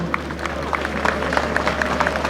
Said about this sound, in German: Gebt unseren Klaus auch mal einen Applaus, hat er verdient.